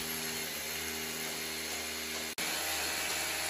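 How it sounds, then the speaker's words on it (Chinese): A power drill bores holes into a ceiling to mount an electric clothes-drying rack, drilling about 4 to 5 cm deep. It gives a steady, close, continuous mechanical whine with a brief cut-out near the end, and no one talks. "我们打孔的时候打4到5公分就可以了"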